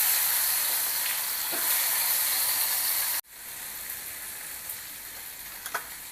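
Ginger, garlic and chili paste sizzling in hot oil in a pan already holding asafoetida and curry leaves: a loud, steady hissing fry that cuts abruptly and then resumes softer, with faint stirring clinks.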